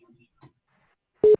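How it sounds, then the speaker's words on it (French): A single short electronic beep sounds in a phone earpiece during a call connection attempt, brief and steady after near silence with faint murmurs. "J'ai un bip dans les oreillettes là qui"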